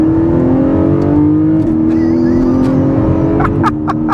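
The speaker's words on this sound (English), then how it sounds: "Hear this engine open up." Porsche 718 Cayman GTS 4.0 engine revs hard, rising and falling in pitch as it opens up, loud and close throughout, with brief upward sweeps near the end, no talking.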